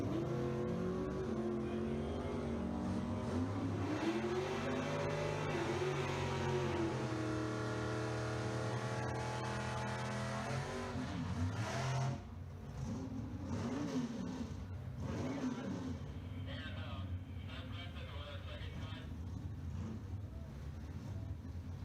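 Race cars, including a 1955 Varsity Ford and a Chevrolet Nova, roar at a drag strip, with engines revving and climbing in pitch before receding into distant, lower engine noise, while faint voices sound in the background.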